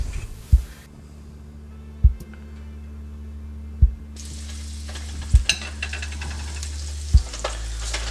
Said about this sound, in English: I'm going to throw a little olive oil on there, medium heat, and I'm going to brown up my short ribs.